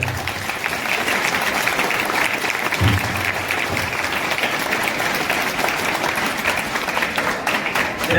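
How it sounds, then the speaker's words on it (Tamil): A school audience gives a guest a big round of applause, many hands clapping continuously and evenly for several seconds, loud and close. "சாருக்கு ஒரு பெரிய கைத்தட்டல்."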